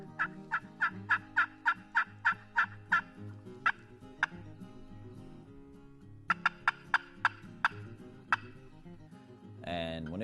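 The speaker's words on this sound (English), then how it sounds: "there was, 3 or 4 or 5 gobblers all there in one area" Several wild turkey gobblers on Louisiana public land sound off in the woods at dawn, a run of loud, rapid gobbles close together, a pause, then another burst of gobbles, clear and fairly near.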